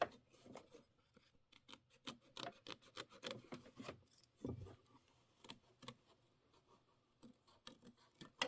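Scissors snip and rub through quilt fabric close to loose stitches, giving a steady run of short, crisp cuts that are fairly faint, with no talking.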